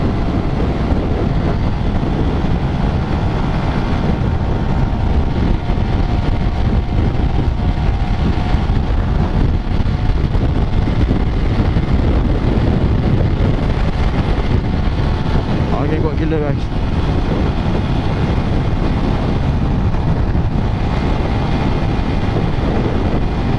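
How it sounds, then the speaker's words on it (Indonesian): Strong wind roars steadily across the microphone during a ride on a Honda RS150R V2 motorcycle, a dense, constant rushing buffet with engine and road noise blended underneath and no breaks. "Apa boleh lah, angin kuat gila."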